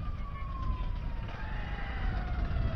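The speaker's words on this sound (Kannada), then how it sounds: "ಓಹೋ, ಆಂಬುಲೆನ್ಸ್ ಬೇರೆ ಬರ್ತದೆ." A faint, distant ambulance siren drifts in as a thin steady tone over broad road and traffic noise at a tourist spot in Chikkamagaluru.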